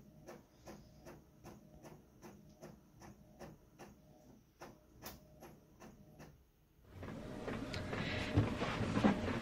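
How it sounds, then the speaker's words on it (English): An office printer prints advertisements, giving a steady series of rhythmic mechanical clacks for several seconds. A louder whirring, hissing rush of the paper feed follows at the end. Close and fairly quiet, with no talking. "I am printing up some advertisements I want to send out to a store"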